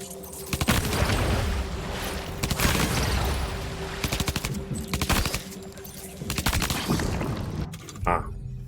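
Machine pistol fire in the video game Death Stranding 2: repeated rapid bursts of close, loud shots separated by short pauses, with a couple of booming impacts near the end.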